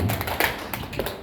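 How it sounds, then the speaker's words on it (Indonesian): Hands clapping in a short group instruction session indoors, a few quick, sharp claps in close succession, close by and moderately loud. "Nanti kalau ada instruksi clap itu tepuk 2 kali."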